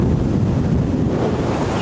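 Huge surf crashes continuously along the beach at Ocean City, Maryland, as hurricane swells roll in, with strong gusting wind buffeting the microphone into a loud, steady roar.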